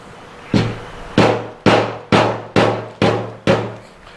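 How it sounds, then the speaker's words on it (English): A framing hammer strikes the snap ring on a 1997 Ford F250 7.3 diesel fuel tank, seven sharp metallic knocks in a steady rhythm about half a second apart, each with a brief ringing decay. "Then we'll use our little framing hammer, pop our snap ring loose here"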